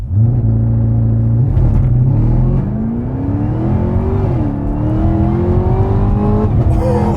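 A 2020 Chevy Camaro ZL1 1LE performs a launch-control start on a race track, its engine holding a steady rumbling rev before the pitch climbs in a long, loud acceleration with wheels slipping.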